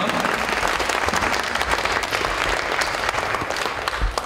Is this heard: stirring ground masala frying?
no